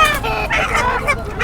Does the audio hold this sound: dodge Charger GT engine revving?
no